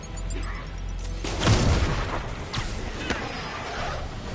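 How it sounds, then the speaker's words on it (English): A grenade explodes in the Spider-Man video game with a deep booming blast that swells and rumbles over a couple of seconds, followed by scattered cracks and debris-like bursts against a steady game background. "Grenade!"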